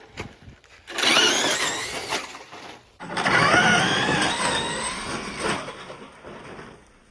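A Traxxas Bigfoot RC monster truck with a BL-2S brushless upgrade drives outdoors, its electric motor whining and the tires crunching over the ground in two long, loud runs with a short pause between them.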